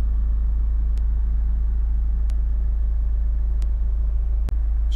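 A Honda CR-V 1.6 i-DTEC diesel engine idles steadily close by, a constant low rumble throughout with a few faint clicks and one sharp tick near the end.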